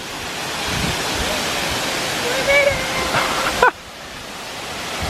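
Rushing water from a hidden waterfall in Ontario roars steadily as broad, close wash with brief voices over it, then drops sharply in level near the end.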